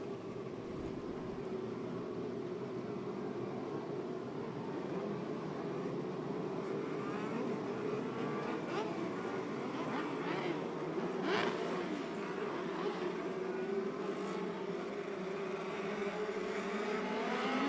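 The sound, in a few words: race cars accelerating down back straightaway at speedway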